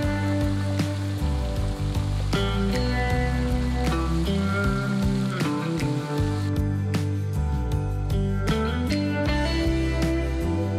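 Cleaned grasshoppers frying in hot oil until crisp, a dense continuous sizzle and crackle with scattered pops, close and steady under background music.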